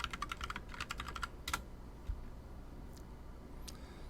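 Fingers type a project name on a computer keyboard, a burst of quick close key clicks followed by a few scattered taps and quiet pauses.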